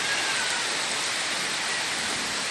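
Heavy monsoon rain driven by strong wind makes a dense, unbroken roar of downpour that stays loud and even throughout, with no voices.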